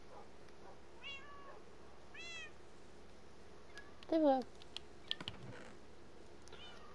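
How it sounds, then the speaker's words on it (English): Cats meow in the Minecraft video game, several short rising mews spaced across the stretch, with one louder cry near the middle, a few clicks, and someone speaking briefly. "Considering the meowing's actually starting to get a little bit annoying."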